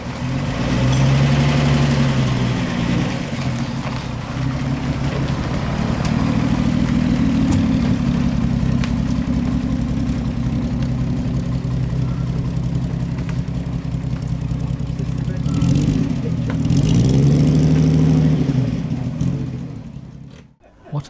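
A car engine runs at a steady low idle throughout, swelling louder twice as the vehicle moves during parking at an AC Owners Club gathering at Thames Ditton, with voices talking over it.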